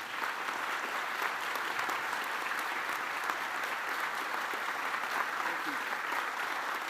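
Sustained applause from the audience at the inauguration of Knox College's twentieth president, a steady, full wash of many hands clapping that lasts throughout.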